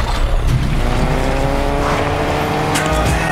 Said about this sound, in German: Yo, man kann jetzt Auto fahren?